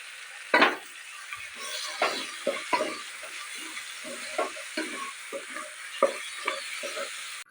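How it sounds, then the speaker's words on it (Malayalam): Tomatoes with mint and coriander sautéed in a pan for vegetable biryani: a steady soft sizzle under repeated scraping stirs, each stroke a short distinct scrape at an even rhythm, close and moderately loud. "കട്ട് ചെയ്ത് വെച്ചിരിക്കുന്ന തക്കാളി കൂടി ആഡ് ചെയ്തിട്ട് നന്നായിട്ടൊന്ന് വഴറ്റിയെടുക്കാം"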